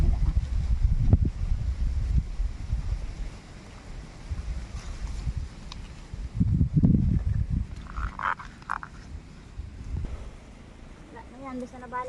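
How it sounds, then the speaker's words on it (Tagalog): Strong wind buffeting outdoors during garden transplanting, a steady low roar with gusts battering the microphone, and voices talking intermittently over it. "sobrang lakas ng hangin"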